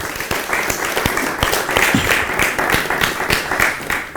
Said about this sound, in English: Clap for Mira.